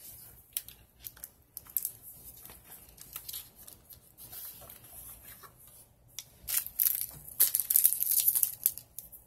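Paper is folded and creased for a collaged traveler's notebook cover, with close crinkling and rustling that grows louder and busier toward the end, no talking.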